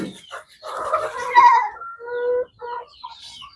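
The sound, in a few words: chicken clucking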